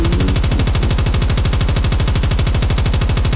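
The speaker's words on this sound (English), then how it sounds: "I'll just shoot up the freaking alley and I can't shoot anyone." Rapid automatic gunfire from Call of Duty gameplay, a loud, sustained stream of evenly spaced shots running without pause from start to finish.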